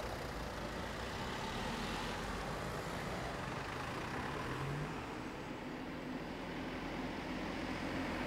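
A car-sharing car pulling away and driving off, its engine a steady, low continuous rumble with road noise throughout.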